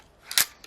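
A single sharp snap of a repeating crossbow firing, a brief crisp release with a quick decay and a faint click just after, close and alone.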